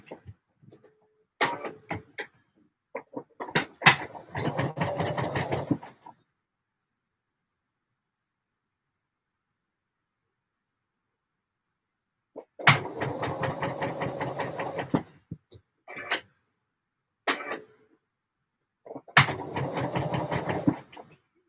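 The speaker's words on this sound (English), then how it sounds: "Sew that remainder of that seam down" A sewing machine runs in three bursts of rapid, even stitching as the remainder of a seam is sewn, each run lasting a few seconds and separated by silence and a few clicks.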